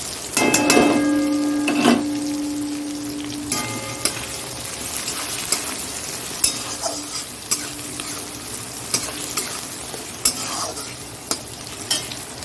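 Onion sizzles in a pan of hot oil for a chicken curry, with a brief tonal ring at the start followed by repeated sharp scrapes and knocks of a spatula stirring over a steady frying hiss.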